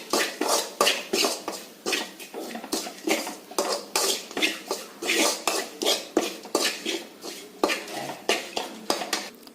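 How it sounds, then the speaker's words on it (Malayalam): A spoon stirs an onion pickle mixture in a pan, making a steady, rhythmic run of close scraping clatters and clinks against the metal, repeated about twice a second with no voices. "ഇനി ഈ കൂട്ട് ഉള്ളിയിലിട്ട് ഇളക്കി കൊടുക്കാം."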